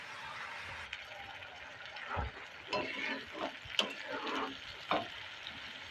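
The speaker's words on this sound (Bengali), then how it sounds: "ভালো করে কষিয়ে নেবো মশলাটা" Spice paste for a spicy egg curry fries and gets stirred in a pan over six seconds, a steady close sizzle broken by several scraping stir strokes.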